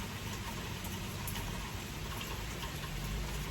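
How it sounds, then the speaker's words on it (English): Steady rain hisses as a faint, continuous wash of patter with no voices. "And it's raining too"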